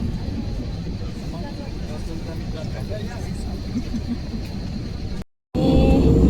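Steady broadband engine roar fills an aircraft cabin, constant and droning, with voices faintly under it and a brief dropout near the end.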